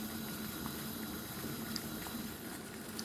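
A poppy syrup mixture with agar-agar boils in a pan, giving a soft, continuous bubbling hiss with faint pops, steady and quiet throughout.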